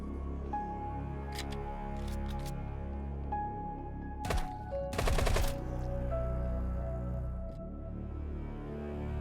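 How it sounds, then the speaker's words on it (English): Uzi submachine gun fire in the zombie survival game HumanitZ, with a few scattered shots and then one dense rapid burst in the middle, heard over a continuous game music bed. "the Uzi is doing some fine work on them pesky zombies"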